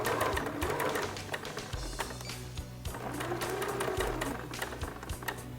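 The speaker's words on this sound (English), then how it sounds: "Now we're going to start sewing." Close, steady rhythmic whirring of a sewing machine stitching lace onto elastic for a bridal garter, running continuously with faint clicks and no talking.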